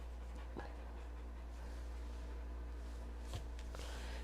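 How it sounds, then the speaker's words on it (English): A dog pants softly after a training session. The quick, breathy panting is faint and steady against a low indoor hum, broken by a couple of brief snorts or bumps. "He just came in from a training session, I'm assuming, based on the panting."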